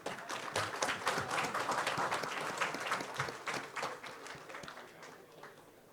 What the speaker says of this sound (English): Can we all please have a huge round of applause?